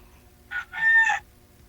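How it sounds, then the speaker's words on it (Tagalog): Chicken crowing nearby, a short clear call with a brief opening note followed by a longer drawn-out crow, loud and close against a quiet background. "May manok kita sa tabi mo."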